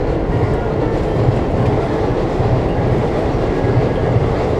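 A train rumbling past nearby, a loud continuous heavy roll of wheels on track with no break.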